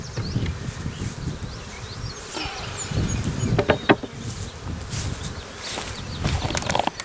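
Honey bees buzz thickly around an open hive being requeened, a continuous close drone with individual bees whizzing past, plus light rustling and handling noises.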